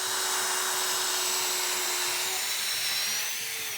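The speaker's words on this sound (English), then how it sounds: "then you can go ahead and drill it there" A loud, continuous high-pitched power drill whine, drilling a tap hole into a maple tree trunk, running steadily up close and easing off slightly at the end.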